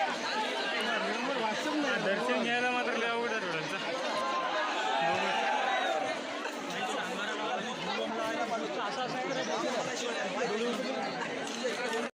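Dense crowd of devotees at a busy Hindu temple on Mahur's Kailash hill chatters all around, many overlapping voices close and loud, steady for several seconds with footsteps and movement mixed in.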